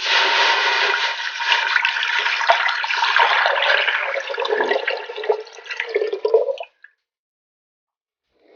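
Twelve cups of water pour steadily into a large pot for about six and a half seconds, a loud, close rushing splash that cuts off abruptly into silence.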